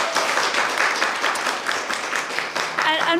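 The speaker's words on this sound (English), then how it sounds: "So we have another round of applause for our panel, please." A crowd applauding a symposium panel steadily, dense clapping that fills the space throughout, with a few voices mixed in underneath.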